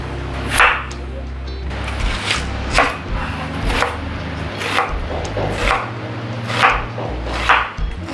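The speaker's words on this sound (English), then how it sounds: "Next we'll be chopping our onion." A knife chops an onion on a wooden board in distinct, fairly evenly spaced strikes, about ten in all, with no voices.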